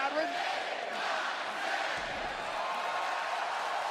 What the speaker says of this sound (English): A record-breaking crowd here tonight in Fort Lauderdale on its feet.